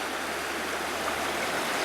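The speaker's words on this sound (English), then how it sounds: "This water here, yeah, it's flowing and looks good and everything" Creek water flows in a steady, close rush of broadband babbling, constant and unbroken with no voices.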